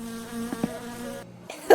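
A mosquito in My Summer Car whines close by, a thin, steady, high-pitched buzz that wavers slightly and then cuts out abruptly before a brief final burst.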